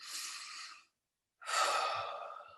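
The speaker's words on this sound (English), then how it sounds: "Take a second deep breath in" A slow, deep breath drawn in and released, heard as two soft airy bursts separated by a brief pause, close and quiet in a calm setting.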